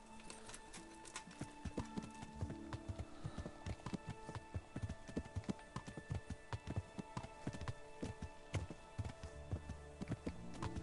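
Horse hooves clip-clop steadily in the video game Kingdom Come: Deliverance, a quiet, rhythmic trot of clear hoofbeats on hard ground, heard alone with a soft background and no talking.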